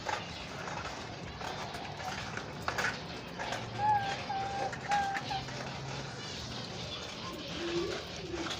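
Caged doves coo softly in a room while someone serves them grain, water and other food, the low rolling coos recurring through a steady background of rustling and shuffling.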